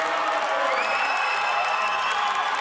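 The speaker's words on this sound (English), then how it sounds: "He's getting the crowd hyped." An arena crowd at an African CrossFit competition cheers and whoops for an athlete in a continuous, loud wash of shouting and applause with no break.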